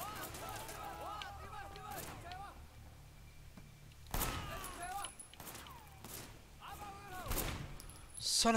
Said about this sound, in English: There's gunshots.